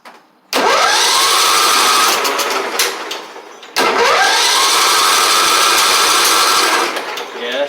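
A John Deere L110 riding mower with a flooding carburetor cranks and catches twice, each time settling into a loud, steady engine drone for a few seconds before the second start takes over.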